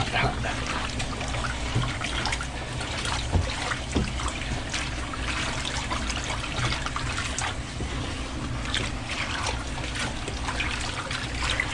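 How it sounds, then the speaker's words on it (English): Water draining steadily out of a reptile enclosure, a continuous close trickle and gurgle without break that holds an even level throughout. "Well, that's finishing draining."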